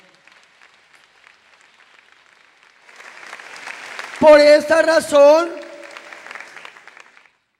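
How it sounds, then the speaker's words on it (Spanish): A church congregation applauds during a Spanish-language worship service, a soft spread of claps building under an amplified preacher who speaks loudly over it in the middle. "Dale ese fuerte aplauso al Señor."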